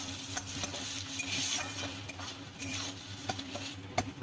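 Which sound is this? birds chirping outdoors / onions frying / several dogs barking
onions frying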